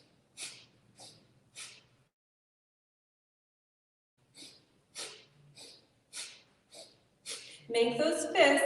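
A yoga practitioner doing an energizing breathing exercise: three quick, forceful nasal exhales, a pause, then a run of rapid sharp breaths ending in a louder rushing burst, close and alone.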